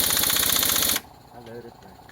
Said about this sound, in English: watch him one more time with the impact tool over here.